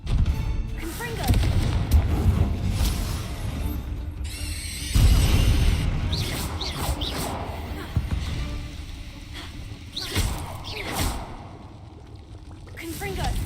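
Confringo fire-blast spells cast in Hogwarts Legacy combat, a run of heavy booms and crackling impacts over a dense, rumbling battle bed, with voices mixed in.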